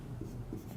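Marker or chalk scratching across a board, a brief close run of short rubbing strokes with a low room rumble underneath.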